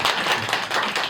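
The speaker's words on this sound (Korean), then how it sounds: "박수 한번 치시죠" A short burst of clapping from a gathered congregation at a Buddhist temple's first-of-the-month dharma service, dense, steady hand claps filling the room for about a second.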